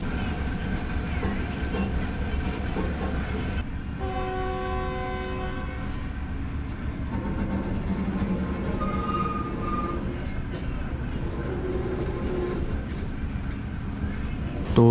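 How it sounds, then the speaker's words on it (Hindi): The Pakistan Express pulls out of Khairpur station at night after a two-minute stop. A long, steady horn blast sounds over a constant heavy rumble of the moving coaches, with the clatter continuing after the horn ends. "तो ये सिर्फ 2 मिनट रुकने के बाद ट्रेन हमारी निकल रही है खैरपुर से।"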